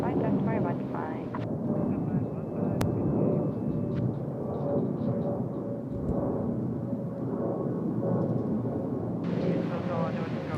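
A Boeing 787 banks through a left-hand turn at Incheon Airport, its jet engines a low, steady rumble under ongoing commentary.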